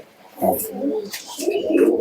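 Local and foreign pigeons cooing close by at a pigeon market, a couple of soft throaty coos with some background noise.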